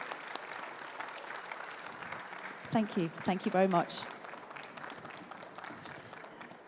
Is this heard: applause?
yes